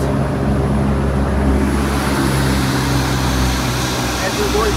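A test aircraft engine runs steadily while being throttled back to 65% RPM, a loud continuous drone with a low hum that fills the whole clip, no voices over it.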